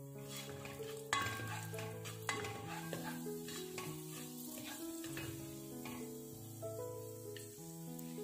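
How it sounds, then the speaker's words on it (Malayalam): Cashews and raisins frying in ghee, a steady sizzle under clinking pan sounds and a sharp knock or two, with music playing over it. "അണ്ടിപ്പരിപ്പ് ഒന്ന് കളറ് മാറി വരുമ്പോൾ നമുക്ക് കിസ്മിസും കൂടെ ചേർത്തിട്ട് അങ്ങോട്ട് പൊരിച്ചെടുക്കാം"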